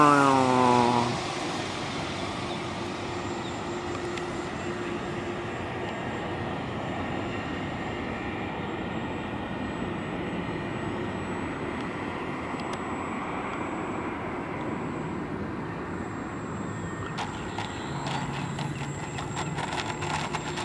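A steady drone from the engine of a radio-controlled RAF SE5a model biplane in flight holds at a moderate level, with a brief louder burst at the start.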